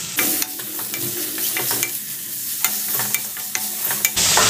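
Egg coated in cornflour frying crisp in oiled pan, stirred steadily with loud continuous sizzling and repeated sharp scraping clicks of the spatula against the pan, close up, no voices.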